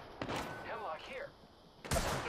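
Bursts of gunfire in Apex Legends on World's Edge crack near the start and again near the end, loud and abrupt, with a short spoken voice line and game sounds between them.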